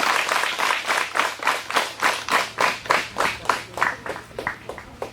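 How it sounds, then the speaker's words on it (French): Audience applause at a school excellence award ceremony in Bétérou, 2021: steady rhythmic clapping from a crowd, fairly close and sustained for several seconds, with no speech over it. "je vais vous demander d'applaudir le représentant de la Fondation IA"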